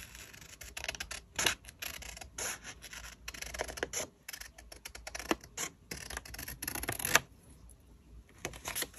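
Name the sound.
scissors cutting paper for journal decorating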